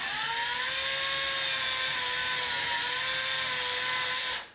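A high-pitched whine of a power drill pre-drilling a hole in wood runs steadily for several seconds, then cuts off abruptly at the end.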